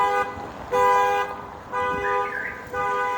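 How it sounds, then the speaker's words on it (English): Car alarm blaring on a sunny downtown street in Latin America, cycling through loud repeating electronic tones that switch patterns every second or so, with faint street noise underneath. "Car alarm with whoever's car nearby."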